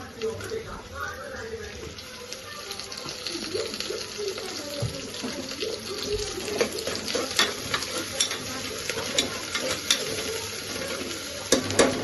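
Crushed ginger hits hot ghee in a pan while cooking ghee rice, giving a soft steady sizzle with scraping stirs, fairly quiet, under someone talking.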